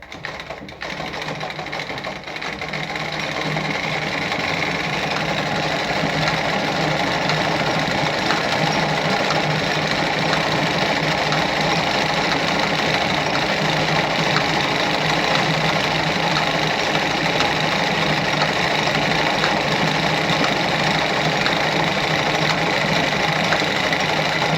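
A Singer 306k sewing machine stitches a tight, close zigzag, running steadily and loudly at close range for the whole stretch with no talking.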